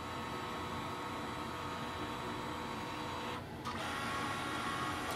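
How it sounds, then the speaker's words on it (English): A Brother MFC-L2820dw printer hums steadily and evenly as it scans a page, nearby and unbroken apart from one short dip in the whirring. "Printer is fast, so it will quickly scan and transfer."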